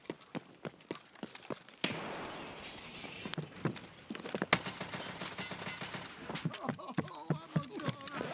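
In the shooter game Escape from Tarkov, a grenade blast bursts out as a broad, rumbling roar, surrounded by sharp rapid gunshots and clicks close by.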